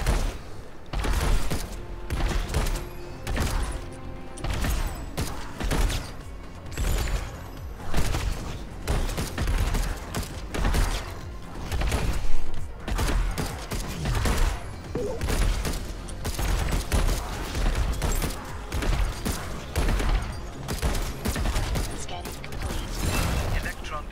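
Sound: revolver gunfire in the video game Alienation

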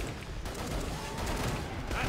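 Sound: 9mm gunfire in a video game

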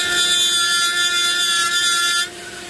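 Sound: Dremel rotary tool carving wood at high RPM

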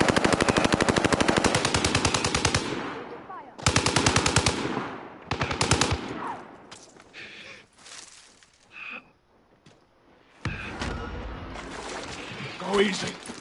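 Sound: gunfire in the video game Warzone

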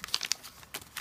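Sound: crumpling glittery wrapping paper

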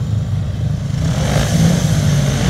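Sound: speedway motorcycle engine running again after repair

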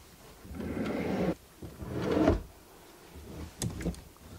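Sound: wardrobe drawer being opened

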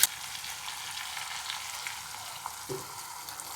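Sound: eggplant sautéing in pan with garlic and chili powder

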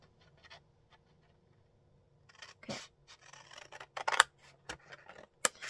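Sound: scissors cutting paper

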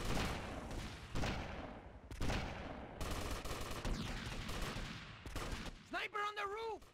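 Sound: M60 machine gun fire in video game GTA Vice City

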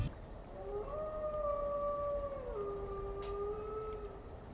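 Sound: monkeys and wolves howling in a jungle area, Halo Infinite video game

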